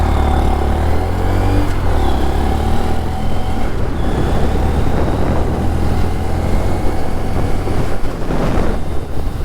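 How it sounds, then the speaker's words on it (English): A stock-exhaust 2022 Honda Grom motorcycle runs and revs on the road, its engine note rising and falling under a constant loud rush of wind across the microphone. "Stock exhaust."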